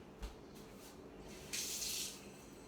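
Water from a tap runs onto slime in a brief half-second hissing splash, preceded by a soft thump amid quiet room noise.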